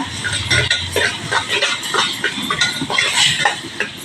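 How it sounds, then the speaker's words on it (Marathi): Cooked red pumpkin tipped into hot tempering in a home kitchen, giving a busy run of sizzling crackle with soft clinks of a spoon against the pan, close and steady for a few seconds. "शिजलेला भोपळा आहे तो फोडणीत टाकणार आहे"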